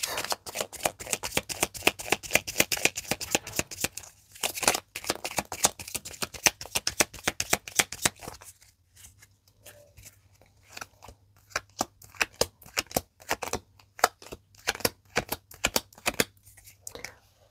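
Tarot cards are shuffled and spread out during a card reading, giving rapid papery riffles and flicks in close bursts, with brief pauses between flurries and no talking.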